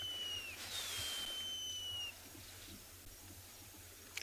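An unidentified wild bird calls at sunset on safari, giving thin, high whistled notes that slide downward, two drawn-out cries over the first two seconds, faint against a quiet outdoor background.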